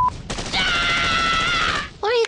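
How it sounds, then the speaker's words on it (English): Rapid AK-47 gunfire strafing enemies in a handheld shooter video game, a loud sustained burst of automatic fire lasting over a second, followed by a short rising whoosh. "Then you strafing your enemies with your AK-47!"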